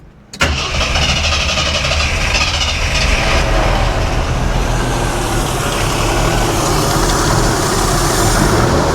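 A Jeep Scrambler engine fires up and settles into a loud, steady idle right after a carburetor swap, the rough running continuous and close throughout.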